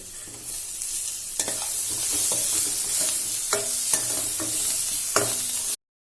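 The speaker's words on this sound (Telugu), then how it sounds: "ఉల్లిపాయలు కొంచెం రెడ్ అయ్యాక ఎల్లిపాయలు వేసుకోవాలి" Onions and garlic sizzle in a pan for a tomato and prawn curry, with a steady hiss and sharp, repeated clinks of a spoon stirring close by until the sound cuts off abruptly.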